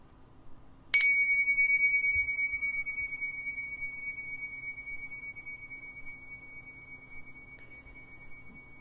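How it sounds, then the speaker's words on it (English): A single chime is struck once and rings out in a clear, sustained tone that slowly fades over several seconds, with a faint second touch near the end, in a quiet room. "I'm going to ring a chime now."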